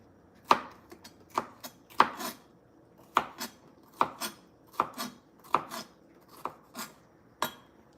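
Onions are chopped on a board in about a dozen sharp knife knocks at an uneven pace, crisp and close in a quiet room with no talk.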